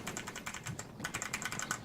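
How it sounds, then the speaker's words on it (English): A new mechanical computer keyboard being typed on, a quick irregular patter of crisp clicky keystrokes, close and fairly quiet, with no talk. "Can you guys hear my new mechanical keyboard?"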